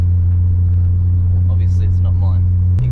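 Holden VL Calais Turbo with a half exhaust dumped at the diff, idling with a steady, loud, deep rumble close by, with faint voices briefly over it before a sudden change near the end.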